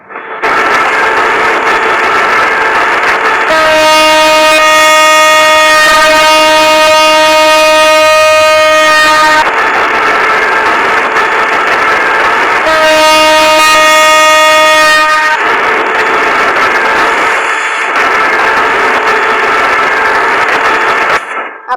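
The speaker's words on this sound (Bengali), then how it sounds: "এটার ট্র্যাক সাউন্ড এবং হর্নটা আপনারা একটু শোনেন।" A 2700 series locomotive in a mobile train video game, loud steady track rumble and clatter with two long sustained horn blasts, plus a shorter horn toot near the end, all close and with no talking.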